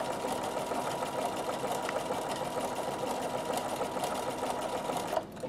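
A Bernina sewing machine running steadily through a satin stitch, a fast, even mechanical whir held close and constant for several seconds before it stops abruptly near the end.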